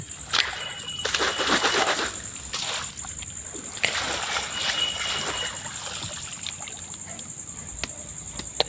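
Water splashing and sloshing as a bamboo fish trap is rinsed in a river, with steady close-up swishing and trickling that rises and falls over several seconds, and a faint steady whine running throughout.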